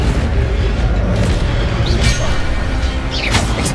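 Incendio fire spell in Hogwarts Legacy bursts out as a loud, dense booming blast with crackling, whooshing texture and sharp magical sparkle accents near the end.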